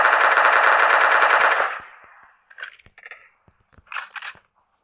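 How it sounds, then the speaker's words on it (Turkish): Sustained rapid automatic gunfire from PUBG Mobile rattles loudly for nearly two seconds, then fades, followed by a few short, quieter bursts of shots and clicks. "Mermi atabiliriz."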